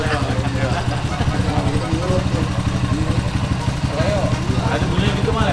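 A motorcycle engine runs with a steady pulsing putter, close and fairly loud, while people talk over it.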